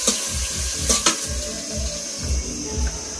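Onions frying in oil in a wok for Bengali shukto, a steady close sizzle with occasional stirring scrapes and clinks.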